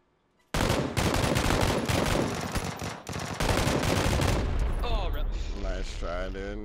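Sustained automatic gunfire in the shooter game PUBG, loud and close, with rapid overlapping bursts after a quiet start, a brief lull near the middle, then more firing while voices talk over the end.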